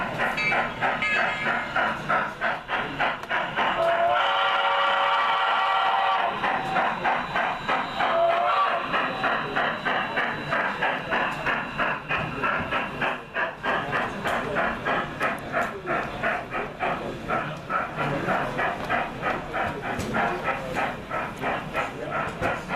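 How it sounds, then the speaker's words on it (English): Narrow gauge model train at a module meet, its whistle sounding in long tones amid steady rhythmic clickety-clack of wheels on the track, with background chatter throughout. "Showing off for me, blowing the whistle."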